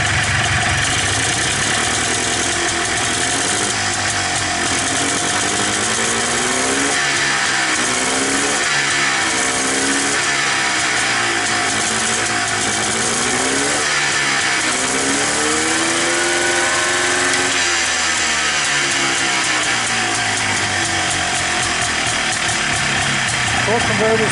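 Polaris Xplorer 250 ATV engine fitted with a Yamaha Blaster carburetor runs continuously up close, a loud rough idle with repeated rises and falls in revs throughout, no voices.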